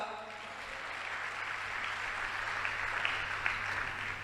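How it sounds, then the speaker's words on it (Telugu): A congregation at a Christian sermon gathering claps steadily throughout, a dense, even wash of many hands with no pauses and no other sound standing out. "చప్పట్లు కొట్టగలవా"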